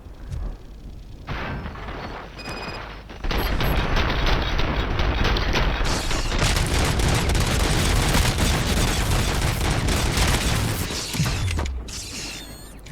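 Sustained gunfire and mechanical clatter from a Robocop: Rogue City battle, a loud dense barrage running for several seconds after a quieter mechanical opening, then fading out near the end.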